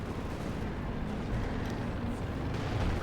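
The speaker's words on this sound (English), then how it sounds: "More artillery firing down the southeast" Artillery fire in the Company of Heroes 2 strategy game: a continuous rumbling wash of distant booms and bursts, dense and steady throughout, with no distinct single shots standing out.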